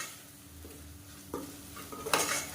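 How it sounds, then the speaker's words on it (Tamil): Spices and biryani masala are stirred in a pan for a Sunday-special chicken biryani, with a soft low sizzle underneath and a few scraping clinks of a utensil against metal. The clinks grow sharper toward the end. "இதையும் சேர்த்து நல்லா வதக்கி விட்டுக்கணும்."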